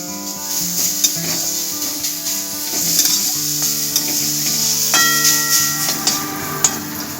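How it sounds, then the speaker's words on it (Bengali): Grated carrot sizzles steadily in a hot pan with spices while being stirred, with light scrapes and clinks of a utensil against the metal. "গাজরটাও আমি দিয়ে দিচ্ছি এই মশলার মধ্যে দিয়ে একটুকু ভেজে নিচ্ছি"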